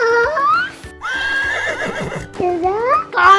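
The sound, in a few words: horse neighing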